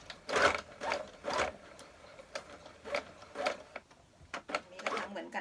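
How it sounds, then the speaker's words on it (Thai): A sewing machine stitches fabric in a series of short, rhythmic bursts separated by brief pauses, close and moderately loud, with a mechanical whirring clatter during each run. "ใช้จักมันเย็บมันง่ายแล้วมันก็เร็วดา ถ้าเราใช้มือเย็บนียมันก็นานเนาะ"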